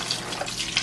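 A 32-ounce carton of chicken broth poured into a pot of smoked sausage cabbage soup, giving a steady, close splashing and gurgling stream of liquid with no talk.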